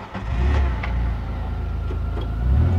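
A Kawasaki MULE PRO-FXR utility vehicle's engine turns over and settles into a loud, close, low rumbling idle with slight surges, with no other sounds.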